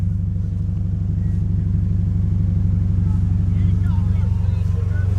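Toyota GT86 Rocket Bunny engine droning steadily at close range, revving up slightly on its own with no throttle input, a constant low rumble throughout with faint voices in the background.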